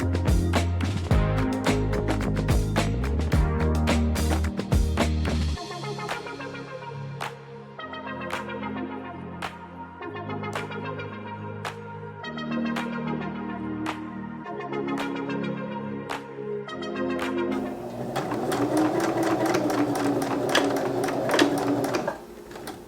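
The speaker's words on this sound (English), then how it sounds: "then we will stitch around," A sewing machine stitches scrap fabric pieces together in rapid bursts, the motor whirring steadily at close range, pausing and changing speed over a long sewing run with no talk.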